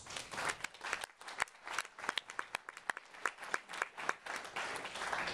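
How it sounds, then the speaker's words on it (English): Audience applause at a political talk in Illinois, a dense crowd clapping steadily with sharp individual claps standing out, fairly distant and sustained with no talk over it. "I think you give yourselves a big round of applause"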